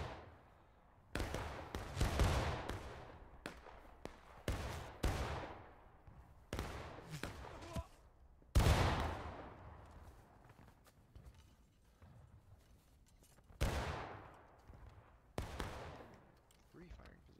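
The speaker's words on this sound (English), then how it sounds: "Three firing positions shooting towards us." Musket volleys from several firing positions in the video game War of Rights, a series of loud booming shots at irregular intervals, some close and some more distant, with long echoing tails and faint voices between.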